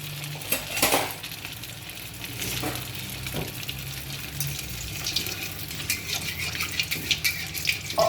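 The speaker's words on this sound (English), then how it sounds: "I'm going to fry my cutlets now." Beet and carrot cutlets with a bread coating sizzle in hot oil, a steady crackling fry close by, with a few clinks and scrapes of a utensil against the pan.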